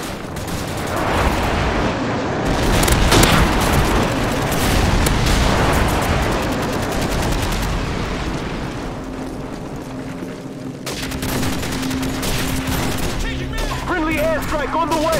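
Airstrike explosions and battle noise in Call of Duty 4: Modern Warfare offline bot multiplayer: a heavy, rumbling barrage of booms and gunfire for about ten seconds, then quieter mixed combat sounds.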